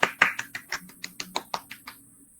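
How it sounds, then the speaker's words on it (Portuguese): Online patient safety session applause: about a dozen sharp, evenly spaced claps from a single pair of hands, close and fairly quiet, slowing slightly and fading out. "merece umas palmas"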